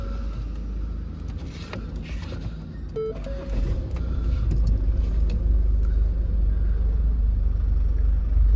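Ford Kuga 2.0 TDCi Titanium X Sport diesel with a manual gearbox, about 99,840 miles, idling with a steady low rumble. A brief tone sounds near the three-second mark, and the engine note grows a little louder and stays even.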